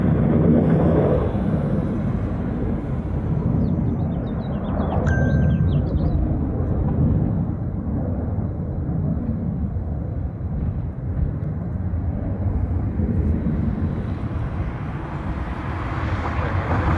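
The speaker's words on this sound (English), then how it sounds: "There it is. That's 737-200." A Boeing 737-200 airliner at Honolulu airport gives off a steady, loud, broadband jet roar and rumble that holds for the whole stretch, with a brief high whine partway through.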